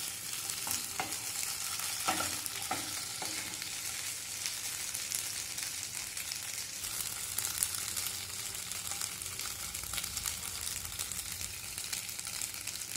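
Chana dal fara dumplings frying in a pan, a continuous dense sizzle with a few faint stirring clicks early on, steady and close throughout, no voices.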